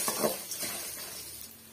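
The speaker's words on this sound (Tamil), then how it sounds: "இது எல்லாம் சேர்த்துட்டு நம்ம மீடியமான தீயில வச்சு வறுத்து எடுத்துக்கலாம்" Red chillies dry roasting in a pan over medium heat for Chettinad ennai kathirikai kulambu, giving a soft sizzle with a few stirring scrapes and light utensil clinks near the start that fade to a quiet hiss.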